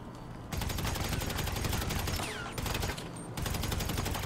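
Rapid automatic gunfire in GTA 5 at the Vinewood Mall, loud sustained bursts with two short breaks, dense and continuous, no talking.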